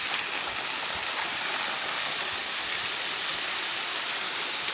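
A waterfall gives a loud, dense, unbroken hiss and rush of falling water, steady throughout and close at hand, with no one speaking.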